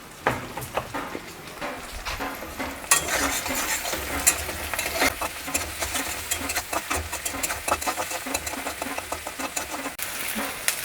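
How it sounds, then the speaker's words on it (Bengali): Raw peanuts fry in hot oil in a pan for Maharashtrian poha, a busy close sizzle with scattered sharp pops and occasional stirring scrapes running throughout. "বাদাম থেকে যখন দেখবে পটপট করে আওয়াজ আসছে তার মানে বুঝে যাবে যে বাদামটা ভাজা হয়ে গেছে"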